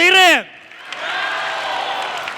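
A brief voice opens, then broad applause and cheering from an audience at a pro-am dance show birthday event swells up and carries on steadily to the end.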